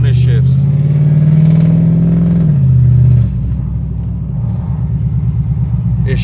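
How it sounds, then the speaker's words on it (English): A car with a faulty transmission hums under load with a steady engine drone, then the pitch drops sharply as it shifts and bogs into a lower, rougher rumble, recorded close and loud from inside. "It shifts, then it bogs out, goes back to first, shifts into second, and then after it shifts into second, it's like so sluggish"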